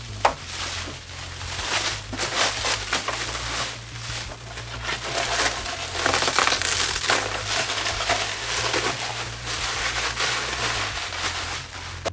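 Thick plastic packaging is pulled and crumpled off a SUNMYTH flywheel spin bike frame, making loud, close, continuous crinkling and rustling bursts across the whole stretch, with no talking.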